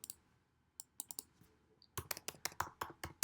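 Typing on a computer keyboard: a few scattered key clicks at first, then after a short pause a quick, steady run of crisp keystrokes, close and clear, with no voice.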